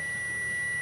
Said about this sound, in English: timer's done.